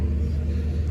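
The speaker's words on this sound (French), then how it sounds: "Petite Audi TT." An Audi TT at a car meet rolls past with a steady low engine rumble and road noise, brief and moderately near.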